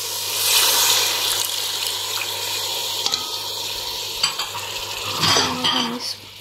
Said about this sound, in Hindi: इसमें थोड़ा सा वाटर ऐड कर देंगे।